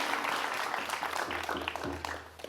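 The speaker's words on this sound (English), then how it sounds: "can we have a round of applause for our hosts and for the space to be able to share today?" An audience applauds a host at a Juneteenth celebration event at DU: a dense, steady wash of clapping filling the room, loud and sustained throughout, with no speech over it.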